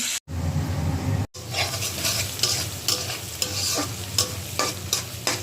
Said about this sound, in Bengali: দুই বোনের জন্য রোস্ট রান্না করবো, তাই মাংসটা আগে ভেজে নিলাম।